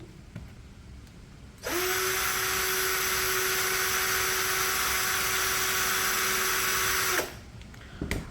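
A DCK KDJZ1602 16V cordless impact drill spins up in drilling mode at its lowest speed setting, a steady loud whine with a constant tone lasting about five and a half seconds before stopping, with quiet room noise either side.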